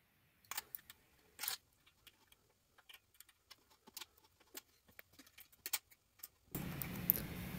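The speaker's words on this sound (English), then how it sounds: "tighten the three set screws with the included hex key" Small metallic clicks and light taps, sparse and quiet, from a hex key tightening three set screws on a Belimo/Ecojay shaft adapter fitted to a Honeywell ARD damper shaft. A short burst of broad noise closes the clip.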